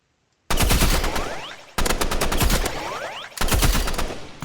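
An automatic gun in the video game Rivals fires rapid loud bursts in three long strings, each a fast, steady rattle of close shots with brief pauses between.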